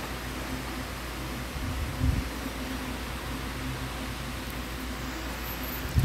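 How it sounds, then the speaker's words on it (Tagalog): An electric fan hums steadily in the background, a constant low whooshing drone with a couple of faint thumps. "Baka narinig yung electric fan sa likod ko."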